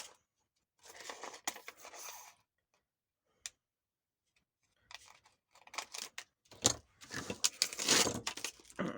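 Scissors snip through a sheet of plastic in a few short bursts of crisp cutting, with a gap of quiet between them and a busier run of snipping and rustling toward the end, close and fairly soft.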